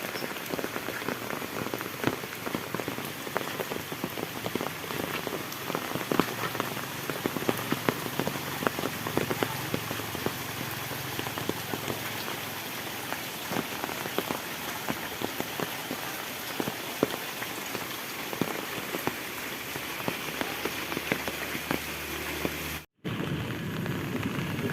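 Steady heavy rain drumming on a surface, dense and continuous, with a brief drop-out near the end.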